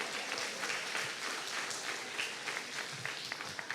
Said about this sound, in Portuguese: pode dar um forte aplauso ao Senhor